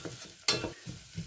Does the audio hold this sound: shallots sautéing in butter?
yes